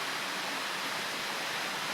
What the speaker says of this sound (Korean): 어두워서 폭포수 날리는 멋진 광경은 보지 못하지만 물 떨어지는 소리는 잘 들린다.